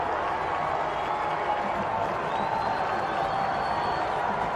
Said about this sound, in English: Now the crowd from the Wofford sideline here at Gibbs Stadium. They are on their feet making the most noise they've made all afternoon.